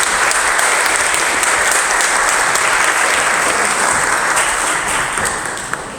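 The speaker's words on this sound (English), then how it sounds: "Give them a round of applause." Loud, full applause from a church congregation at a Sunday service, a dense continuous clapping that stays strong before tapering slightly at the end.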